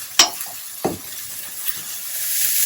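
Chopped green peas, carrots and beans hit a hot pan with two sharp clatters, followed by a soft, steady sizzle that slowly builds.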